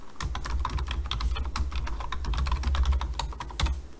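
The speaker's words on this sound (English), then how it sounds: "So let me go ahead and type our sentence here." Someone types a sentence on a computer keyboard, producing a steady, close run of quick plastic key clicks with a few heavier keystrokes and no talking.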